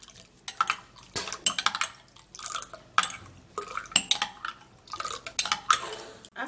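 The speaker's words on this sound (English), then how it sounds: "And then you mix it very well." Red onion mixture being stirred in a bowl, a run of wet clinking and scraping strokes with irregular taps of a utensil against the dish, close and fairly quiet, no talking.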